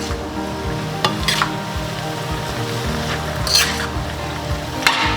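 Baked potatoes get stirred into sautéed green beans and chicken in a hot pan, giving a steady loud sizzle with scraping stirs and a few sharp clacks of the utensil against the pan.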